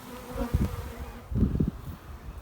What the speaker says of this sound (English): bees all over the side